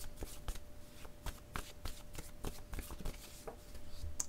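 Word cards for a reading shuffled close at hand, a rapid series of crisp riffling flicks and soft slaps in an irregular rhythm, alone and fairly quiet.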